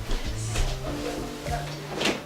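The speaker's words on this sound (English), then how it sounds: "Close the door." A door swings shut indoors with a short thud and latch click, heard between bursts of conversation.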